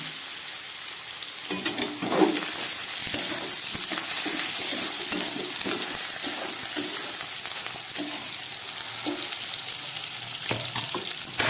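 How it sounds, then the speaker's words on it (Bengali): Oyster mushroom pieces frying in hot oil in a pan for a Bengali-style dish. A dense, continuous sizzle runs throughout, with occasional scraping and stirring clicks and no voices. "খুব ভালো করে আমি মাশরুমটাকে ভেজে নিলাম।"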